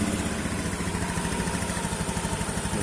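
A fuel-injected motorcycle engine idles steadily and close by, with an even, fast pulsing rumble throughout and no voices.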